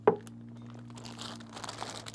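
A plastic bag crinkles and rustles in soft, irregular bursts after a single sharp tap, over a low steady hum.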